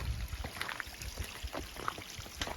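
Rainwater pours down steep rock faces like small rivers, a continuous close rushing wash with scattered splashes and knocks throughout.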